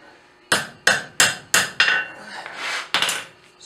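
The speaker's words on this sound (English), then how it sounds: "So now we'll start curling the rest of this over the horn of the anvil" Steel struck with a hammer over the horn of an anvil while forging tong clips, a quick run of sharp ringing blows, five close together, then a pause and another strike.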